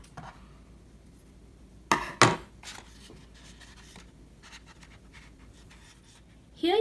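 Scissors trim excess gift-wrap ribbon on a wrapped box of designer boots, giving two close, sharp snips near the two-second mark and a brief rustle at the end over quiet room tone.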